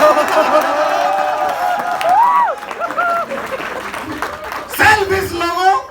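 A crowd claps loudly at a motivational comedy show, with bursts of applause and cheering mixed with voices shouting and talking over the clapping.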